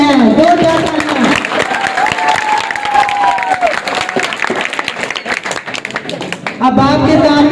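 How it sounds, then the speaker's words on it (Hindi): Audience at a City Academy of Science school event claps and cheers steadily for several seconds, loud and close, with a voice speaking at the start and again as the applause fades. "और तालियां वो बजाओ जिनके हाथों में दम है दो चार तालियां"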